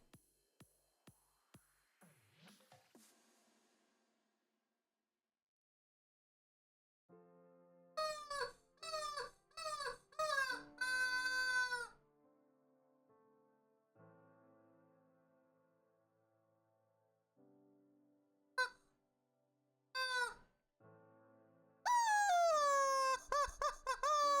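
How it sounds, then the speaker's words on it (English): A household rubber chicken gives a series of loud, strained squawking squeaks in separate bursts, some short and some drawn out, with quiet gaps between them. "today's object of scale is the household rubber chicken"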